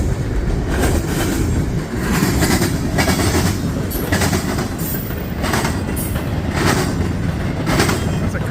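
A mixed freight train rolls past up close, loud and sustained, with a rhythmic clickety-clack of wheels over rail joints and occasional metallic squeals, and no voices.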